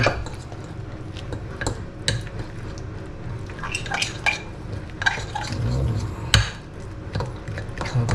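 A utensil stirs and scrapes through shrimp omelette batter with flour in a bowl, producing irregular soft clinks and wet sloshing taps at close range.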